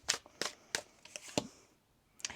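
A deck of tarot cards is shuffled by hand in a quick series of crisp, papery riffles and flicks, close up with short pauses between bursts.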